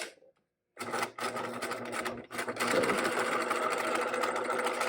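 A sewing machine top stitches along the marked lines of fabric maze walls, a steady close mechanical whirring that starts after a brief pause and runs with short stops.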